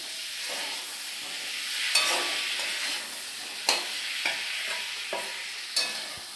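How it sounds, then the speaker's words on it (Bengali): Fried pointed gourd and shrimp go into a pan of sizzling potato and tomato curry, making a steady frying hiss. Several sharp spatula knocks and scrapes cut through it at irregular intervals. "এই যে পটল ভাজা আর চিংড়ি মাছ ভাজাটা দিয়ে দিলাম।"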